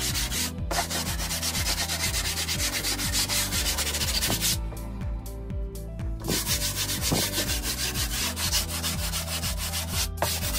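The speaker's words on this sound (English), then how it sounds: "use a 100 grit sandpaper and just smooth all of the wood putty" Wood putty being smoothed with 100 grit sandpaper, a loud, continuous rhythmic rasping of back-and-forth strokes, close up, with a brief pause midway before the scrubbing resumes.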